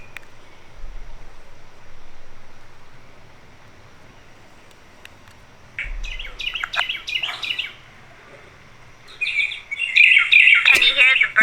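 Birds chirp and tweet outdoors at Poor House Farm Park in Martinsburg, West Virginia, in bursts, the calls growing louder and busier toward the end over a steady background hiss.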